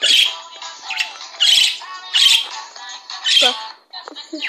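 A pet bird squawks repeatedly in harsh, loud bursts about a second apart, close by, with short chirpy calls between them.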